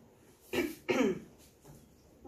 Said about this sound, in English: Don't start coughing again.